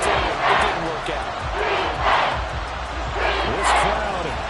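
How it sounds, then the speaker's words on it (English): A loud crowd roars steadily in an American football video game, with swells of cheering rising and falling over several seconds. "This crowd turning up the decibel level."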